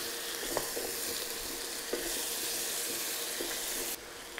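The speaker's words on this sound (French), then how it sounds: "Et il va aider à faire revenir un petit peu nos légumes." Vegetables sauté in butter and oil in a pan, a dense steady sizzle heard up close with occasional soft utensil taps, and the hiss drops slightly near the end.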